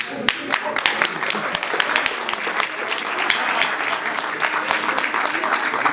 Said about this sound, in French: Donc un applaudissement.